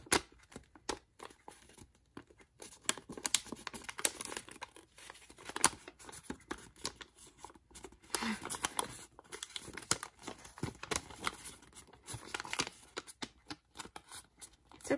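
Paper is folded and creased into an origami rat. Soft crinkles and crisp rustles come up close and quiet in irregular flurries, with sharper crackles scattered through a steady stretch of handling.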